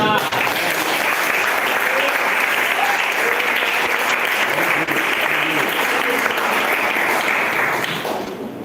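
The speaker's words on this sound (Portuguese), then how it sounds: "Dá uma salva de palmas." A church congregation at a Portuguese-language Easter service breaks into steady, full applause, a loud, continuous wash of clapping that holds evenly for several seconds before tapering off at the end.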